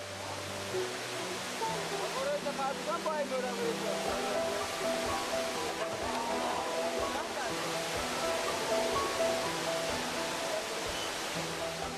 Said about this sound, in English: People come from far and wide to visit this waterfall.